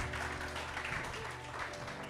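Faint audience applause at a seminar on organisational transformation and scaled agile, a soft continuous patter of clapping with a low room hum underneath.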